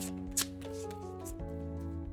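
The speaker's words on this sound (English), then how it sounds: "I'm gonna shuffle again." A deck of oracle cards is shuffled in steady soft riffling strokes close by, with a brief sharper flick near the start, over a constant low electrical hum.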